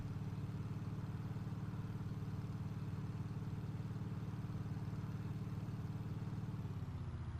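A damaged World War II bomber engine in a Battlefield game drones in a constant, low, throbbing hum that holds steady before sagging slightly in pitch at the end, with no voices.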